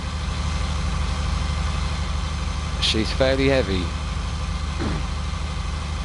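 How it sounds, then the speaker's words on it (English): A powerful tractor idles in the farming game Farming Simulator 19, giving a steady, low droning hum that runs throughout while someone talks over it. "we've got a powerful tractor"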